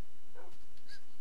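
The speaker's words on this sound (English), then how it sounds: "Hey, a dog." A dog in a video game gives a couple of short, high yips or whimpers, brief and moderately loud against a soft game background.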